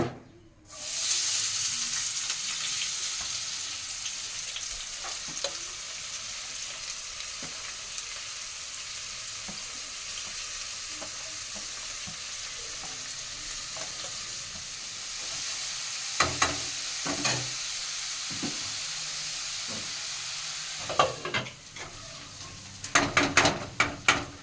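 Small-cut onions frying in oil as the tempering for a gongura chicken curry: a continuous close sizzle and hiss, with stirring clatter and knocks growing busier toward the end; no talking.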